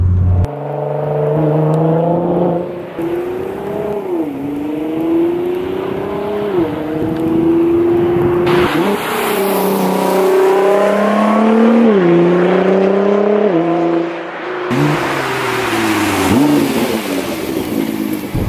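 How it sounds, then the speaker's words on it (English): A Nissan GT-R with a 4-inch stainless steel exhaust revs up and down repeatedly, deep and aggressive, loud and close, with rising and falling engine pitch throughout. "It's a 4-inch exhaust, so it gives it a much more aggressive tone than the 3-inch exhaust systems do"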